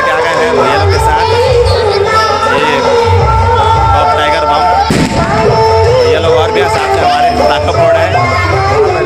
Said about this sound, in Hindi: पटाखा लेके आ गए हैं